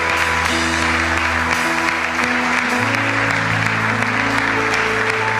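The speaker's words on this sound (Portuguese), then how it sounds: "Você pode aplaudir esse Deus. Aplauda o Senhor." Church congregation applauding during a worship service, a continuous dense wash of clapping over sustained music tones throughout.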